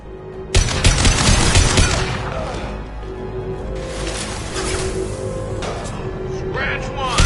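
Sustained firefight gunfire in the video game Mass Effect 2 Legendary Edition, with loud bursts of shots and impacts over a constant rumble of battle ambience.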